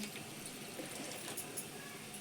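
Water poured from a tap or vessel into a pan of cooking okra curry with yogurt, tomato and garlic, a soft continuous trickle and splash, fairly quiet and close.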